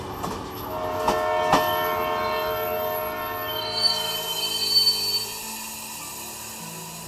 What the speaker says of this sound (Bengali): সগর্জনে ট্রেন এসে থামল।